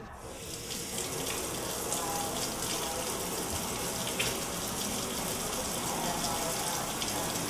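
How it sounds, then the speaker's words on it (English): Hot water gushes from a faucet into a compartment of a three-compartment sink, a steady rushing splash that stays even throughout, with faint voices in the background. "you need to fill the sink with water that is at least 100 degrees Fahrenheit"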